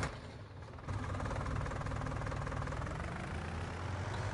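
An old tractor engine in Farming Simulator 19 idles with a rhythmic, low chugging putter like an old John Deere two-cylinder, steady and close, revving up slightly after the first second.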